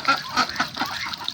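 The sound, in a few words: Chinese geese honking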